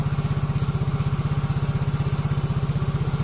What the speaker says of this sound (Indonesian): Coba mas dihidupkan motornya mas. Ya, di starter aja mas motornya, dihidupkan.